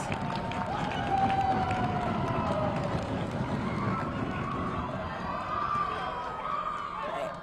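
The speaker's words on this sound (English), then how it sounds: "the crowd was very amped up to see that happen" Crowd at a high school girls' basketball game on senior night roars and cheers in a steady, noisy swell of voices, with sneaker squeaks and court bustle mixed in and a commentator talking over it.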